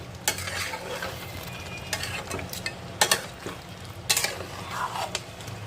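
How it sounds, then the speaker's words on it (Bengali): Mutton with spices is turned and stirred with a metal spatula in a pan over a high gas flame, giving repeated scraping strokes and clanks over a continuous sizzle, close and fairly loud. "এবার ভালো করে উপর নিচ করে কিন্তু আমি একটু মিশিয়ে নেব যাতে মশলার সাথে মাটনটা ভালোভাবে মিশে যায়"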